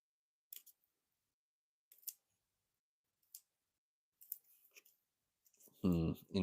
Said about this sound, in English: Let's cut that bit off.